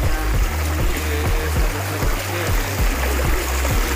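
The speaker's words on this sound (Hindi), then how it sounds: "ये जो पानी का जो साउंड है ना" Steady rushing water from a waterfall stream near a dam in Port Blair, Andaman Islands, fills the background, with a regular low thumping pulse running underneath.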